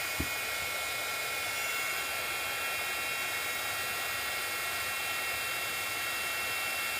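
A heat embossing tool blows hot air onto UTEE powder on a stamp, a steady loud broadband whoosh that runs the whole time with no talking.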